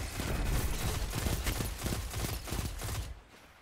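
The Requiem-45 pulse rifle fires in Destiny 2 Warmind, rapid rhythmic bursts of close, loud shots repeating steadily for about three seconds before cutting off into quiet.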